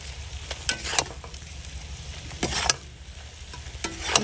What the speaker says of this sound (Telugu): ఆయిల్ హీట్తోనే మనకి ఈ వెల్లుల్లిపాయ కారం అనేది ఫ్రై అయిపోతుంది